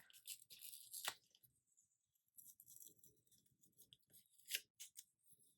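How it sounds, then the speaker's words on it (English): Washi sticker sheet being ripped by hand, giving a few short, crisp tearing bursts separated by quiet gaps, close and fairly faint. "We're gonna rip a little bit."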